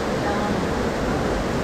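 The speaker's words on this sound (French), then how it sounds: "c'est une cascade" At the Fjord Explorer water ride in Le Pal park, a cascade and water jets pour down in a loud, steady, close rushing roar that fills the whole moment without a break.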